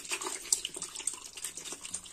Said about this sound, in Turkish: İkinci bidonumuzu boşaltıyoruz.